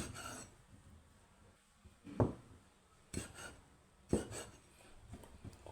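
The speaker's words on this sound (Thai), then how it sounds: "ก็เป็นกุ้งนะครับ ผมก็จะมาหั่นเป็นชิ้น อย่างนี้" A knife cuts shrimp into pieces on a board for a Thai stir-fry with garlic chives, giving three or four sharp, faint chops and scrapes spaced about a second apart against quiet kitchen background.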